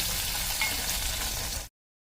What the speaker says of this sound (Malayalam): ഉപ്പും കൂടി ചേർത്തിട്ട് ഒന്നുകൂടെ വഴറ്റിയെടുക്കാം